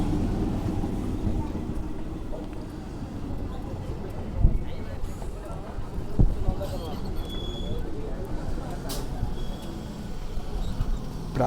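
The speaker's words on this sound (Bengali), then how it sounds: "প্রায় 2 ঘন্টা পর মেচেদা দীঘা লোকাল এলো স্টেশনে" A Mecheda–Digha local train pulls into a station: a continuous low rumble with rolling wheel noise and a few sharp metallic knocks, with faint background activity around the platform.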